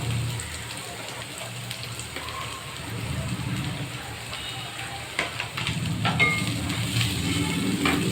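Bitter gourd pieces drop into a hot pan with garlic fried until reddish. A steady crackling sizzle runs throughout and swells louder and busier as the pieces land, with faint talk underneath.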